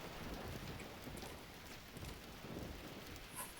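Steady, dense rain pours in the video game An English Haunting, with low thunder rumbling underneath. The downpour stays constant throughout and no one speaks.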